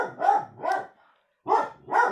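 A dog barks four times in two pairs separated by a short pause, loud and close, with no talking over the barks.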